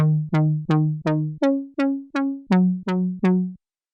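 A Serum synthesizer swell lead plays ten short, evenly spaced notes, each fading in and out with a bright, buzzy tone, followed by silence.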